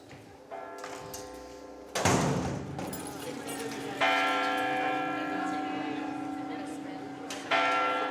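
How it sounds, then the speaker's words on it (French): Cathedral church bells in Alsace ring out at night in several resonant strikes, each tolling tone lingering and overlapping the next, with a faint voice underneath. "Les cloches de la cathédrale se mettent à sonner."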